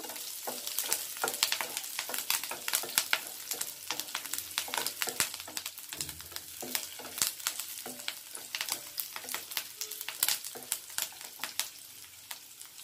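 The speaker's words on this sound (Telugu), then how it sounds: "ఇంకా కరివేపాకు, కొంచెం వేగాలి." Curry leaves fry in hot oil for chicken 65, giving a dense, continuous sizzle with crackling pops throughout, close and fairly loud.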